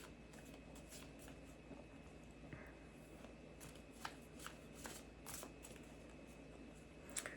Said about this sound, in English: Now go ahead and shuffle your deck